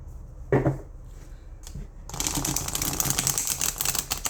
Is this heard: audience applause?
no